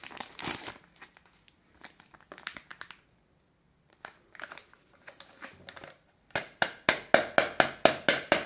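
A package of BioTechUSA ISO WHEY ZERO vanilla protein powder is handled close up with scattered crinkles and rustles, a pause, and then a quick run of sharp, regular crackling bursts.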